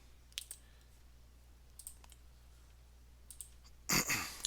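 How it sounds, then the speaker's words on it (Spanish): Mouse clicks while building a Pareto chart from a pivot table in a spreadsheet: a few sharp, faint, isolated clicks spaced apart in a quiet room, ending with a louder rustling burst. "Vamos a darle en la flechita que está aquí un clic"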